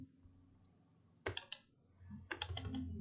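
A computer mouse is clicked in two quick bursts of three clicks each during CAD design work, crisp and close against a low background hum with no talk.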